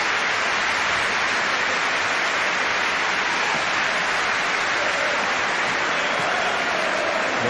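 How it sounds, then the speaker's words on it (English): Liverpool supporters at Anfield applaud Danny Murphy as he is substituted off during a Premier League match against Tottenham Hotspur, a broad, steady wash of crowd clapping and stadium noise throughout. "Good applause from the Liverpool fans even for Murphy as he goes off."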